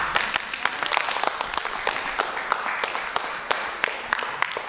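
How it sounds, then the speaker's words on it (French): A group of children applauds together at a youth council meeting in a Lyon district hall, a dense, lively patter of clapping hands with sharper individual claps standing out for several seconds. "Vous pouvez vous applaudir."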